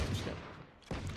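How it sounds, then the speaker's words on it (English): Bursts of gunfire in a competitive video game match ring out as dense rapid booms and rattling shots in two heavy clusters with a brief lull between them. "But lots of gunfire coming out"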